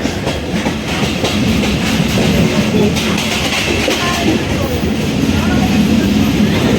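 Inside a Shovon-class coach of the intercity Dhalarchar Express between Azimnagar and Ishwardi, a loud, continuous rumble of wheels and clattering carriage jolts fills the whole stretch.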